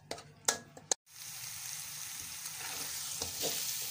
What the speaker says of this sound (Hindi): अब हम इसको अच्छी तरह फ्राई करेंगे